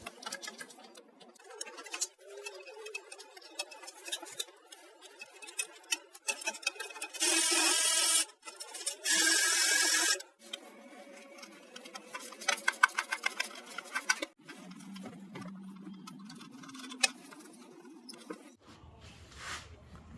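Rapid ratchet clicking while timing cover bolts come off a Honda Accord 3.0L engine, close and sharp in quick bursts, broken by two loud harsh grinding stretches and softer rubbing near the end.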